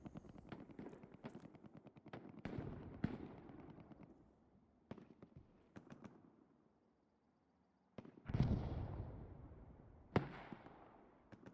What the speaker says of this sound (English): Rocket hits the back of the Panzer IV.